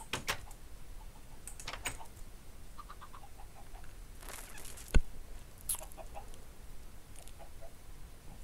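Chickens clucking in a Minecraft survival world, short scattered clucks and squawks at a moderate distance over a faint background, with one sharp click near the middle.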